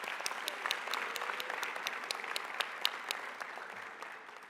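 An audience applauds honor society members at an induction ceremony, with sustained clapping and a few sharper individual claps standing out, fading slightly toward the end.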